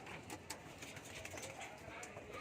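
Pigeons coo softly in Rosario, La Union, faint and somewhat distant over a steady hiss of outdoor background noise, with no talk.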